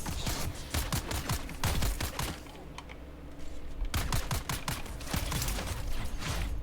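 Gunfire in Dune Awakening, with rapid clusters of sharp shots in two main bursts separated by a short lull, fairly close and steady with mechanical clicks among them.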